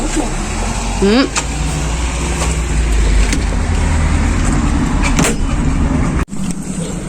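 A bus on a street idles and rumbles with a heavy, steady low drone, while people talk nearby and there is a brief squeaky chirp and a short clunk.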